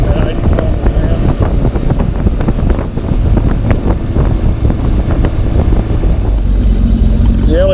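A Yamaha XS1100 cafe racer motorcycle cruises at about 80 km/h, its engine droning steadily under heavy wind buffeting on the microphone, with a rider talking over it.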